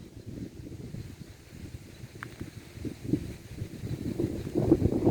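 Strong, dry wind blows outdoors in the afternoon as a storm approaches, making a steady low buffeting roar against the microphone that grows louder toward the end.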